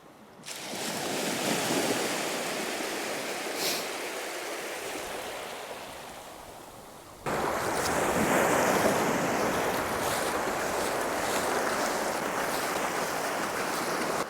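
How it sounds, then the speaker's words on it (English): A stiff 35-mile-an-hour northeasterly wind blasts across a cold beach at night, with loud, steady roaring gusts and crashing surf that buffet the microphone throughout, with no voices. "there's a stiff 35-mile-an-hour northeasterly blowing"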